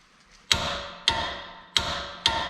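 A torque wrench tightens the CV axle nut on a 1998 Toyota 4Runner to 173 foot-pounds. Four sharp, close metallic knocks come at a steady pace, each ringing briefly before it fades.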